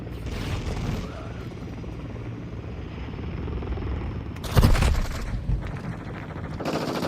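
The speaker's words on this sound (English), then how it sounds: "Hostile UAV overhead." In a Call of Duty Modern Warfare II match, a hostile UAV drones steadily overhead, a loud continuous rotor-like hum with a burst of gunfire midway through.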